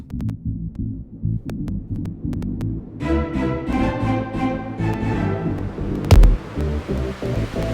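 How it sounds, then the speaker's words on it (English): Low-pass filtered white noise rises as an electronic build-up for a drop over a pulsing low beat, with tonal layers joining midway and a sharp noise sweep near the end. "Add a low pass filter to these. Low pass it, and slowly builds up with this white noise."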